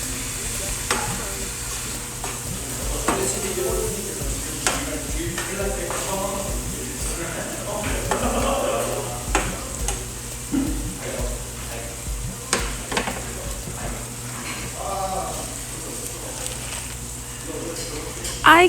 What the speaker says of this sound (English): to saute the spinach.